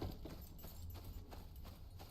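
Rhythmic clip-clop of a horse's hooves in the video game Icarus over a steady, fairly loud background, with a faint whinny-like tone; no talking.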